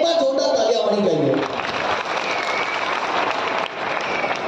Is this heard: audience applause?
yes